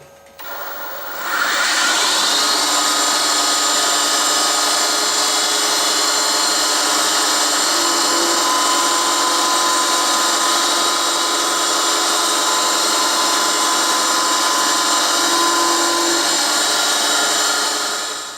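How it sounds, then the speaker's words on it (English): A 6mm three-flute carbide end mill cuts a miniature M1911 magazine part, starting up after a short quiet moment, then holding a loud, steady, high whine with a bright ringing tone that runs continuously to the end. "I'm just running along a 6mm 3-flue carbide end mill"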